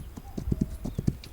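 Quick, close hoofbeats of a horse picking its way down rocks in a video game, a rapid uneven clip-clop of about eight hard strikes over a steady background hiss.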